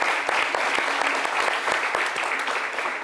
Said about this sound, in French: j'ai envie qu'on applaudisse ça